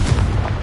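Blast from the Confringo explosive spell in Hogwarts Legacy, a short, loud, booming burst heavy in low rumble that fills the whole moment without a pause.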